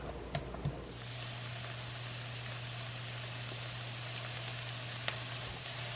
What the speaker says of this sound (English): The butter's melted, so now I'm adding my chopped onion. And I'll cook this till it's translucent.